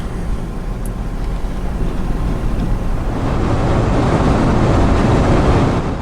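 Loud, steady rumble of Union Pacific steam locomotive Big Boy No. 4014 or No. 844 passing at close range near Rock River, Wyoming, a broad roar that swells slightly toward the end with a rattling undertone.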